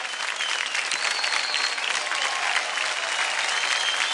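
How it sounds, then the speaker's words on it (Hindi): Loud, sustained audience applause in a TV dance show studio, dense clapping and crowd noise continuing evenly throughout without a break. "जोरदार तालियां हो जाए।"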